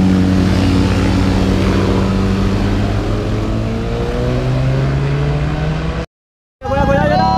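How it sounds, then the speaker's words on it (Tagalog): A motorcycle engine runs loud and close with a steady, rising rev, then cuts out abruptly near the end before sound resumes with a brief rev and nearby chatter. "Start ang motor ko."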